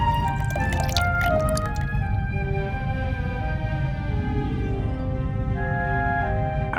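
Luminol solution drips onto a swab in The Raven video game. A few quick, light drips land early, then soft sustained musical tones carry on alone.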